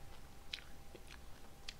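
Sour ball hard candies being crunched between teeth, a few sharp crisp bites spaced apart over a low steady background, close and fairly quiet.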